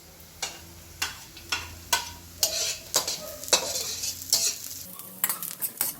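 Garlic going into hot oil with onions in a home kitchen for the Filipino dish laing: a steady close sizzle of frying, broken by repeated sharp scrapes and stirring clacks of a utensil against the pan.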